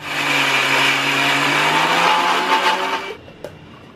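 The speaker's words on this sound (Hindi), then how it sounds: "दाल को हम मिक्सर जार में डाल के एकदम स्मूथ पेस्ट बनाएंगे।" A mixer grinder crushes soaked lentils into a smooth paste for dahi bhalla, a loud, steady motor whir for about three seconds before it cuts off, leaving a faint click.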